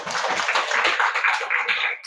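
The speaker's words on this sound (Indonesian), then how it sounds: "Oke, kasih tepuk tangan buat Nia" Dense, continuous clapping from a classroom audience applauding a student named Nia, fairly close and steady for about two seconds with no talking.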